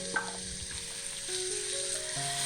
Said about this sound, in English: Stir frying the mushroom for about 3 minutes.